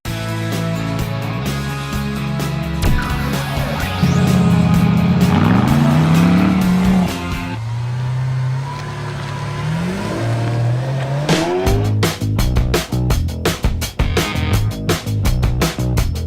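A 2014 Chevy Volt accelerating from 0 to 60 mph on a track: a rising electric whine climbs and drops in pitch over several seconds, then rapid ticking and rattling road noise follows, with no talk.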